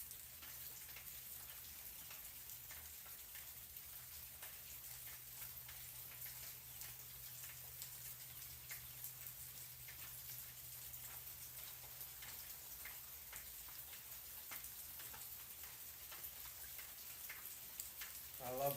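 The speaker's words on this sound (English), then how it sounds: "I love the sound of the rain" Rain falls steadily outside, heard from a front porch as a faint, even hiss with scattered light ticks of drops, unbroken throughout.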